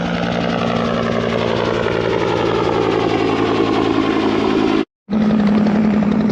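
A helicopter hovers over a lakeside cove while a hose dangles beneath it to scoop up water, its steady rotor and engine drone loud and continuous, broken by one brief dropout near the end before resuming.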